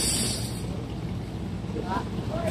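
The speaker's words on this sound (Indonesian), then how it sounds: "Jadi kapal ditarik dulu dengan kapal tugboat, ditarik ke tengah" The passenger ship KM Dharma Rucitra 1 departs under tow from a tugboat, heard from the rear deck as a steady low engine rumble mixed with wind noise across the microphone, continuous and fairly loud, with a voice talking over it.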